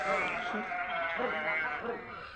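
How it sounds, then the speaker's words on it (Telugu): Several goats bleat in wavering, nasal calls, one after another, fairly close, with a voice faintly mixed in. "మీకు ఫ్రెండ్స్ మేకలు పోయే టైం కూడా అయితే వచ్చేసింది"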